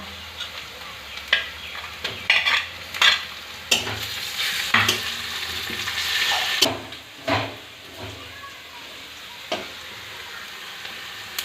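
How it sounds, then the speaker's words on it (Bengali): Ginger and garlic paste fries with lightly browned chopped onion in oil, spiced for a rajma curry. A close, moderate sizzle is broken by repeated sharp spoon scrapes and clacks against the pan. "এবারে দিয়ে দেবো আদা বাটা আর রসুন বাটা।"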